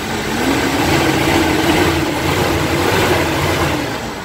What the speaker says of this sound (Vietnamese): máy nổ đứt chất luôn nha